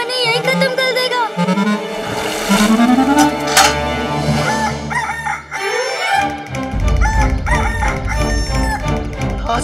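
A rooster crows loudly over busy, loud music and sound effects, with a few clucks mixed into the dense backdrop.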